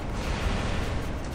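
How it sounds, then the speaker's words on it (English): A Favnir tank's shot in a video game booms as one heavy, rumbling blast that fills the short moment, dense and loud with a deep low-end roar. "Double Favnirs are shooting at us."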